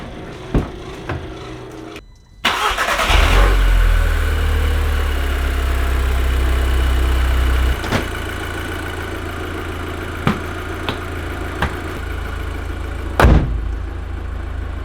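An Audi TTS 8J engine, just fitted with a new high-pressure fuel pump cam follower, idles steadily and close up after a brief click at the start, its low drone joined by a few sharp ticks.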